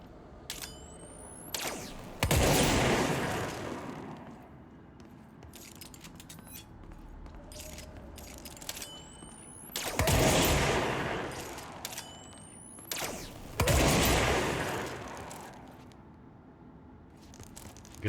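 Video game gunfire erupts in three loud, dense bursts spaced several seconds apart, each trailing off into a quieter background between volleys.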